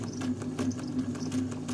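A Singer Model 527 sewing machine runs close by, stitching in a steady rapid rhythm, its needle mechanism whirring with a constant motor hum and regular clacking pulses throughout, with no talking.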